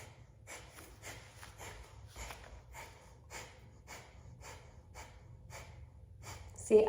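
Forceful kapalabhati breathing exhales come as a steady train of sharp nasal puffs, roughly two per second, close and fairly soft, with a louder breath at the very end.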